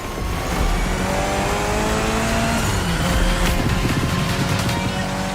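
A Mitsubishi Lancer Evo X races in The Crew Motorfest, its engine revving loud and close through gear changes over a rushing road roar, with tires squealing and no talking.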